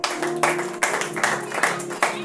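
A congregation at a French-language church service claps to acclaim the king, a quick run of many overlapping claps that blend into a steady patter, with a low held tone underneath.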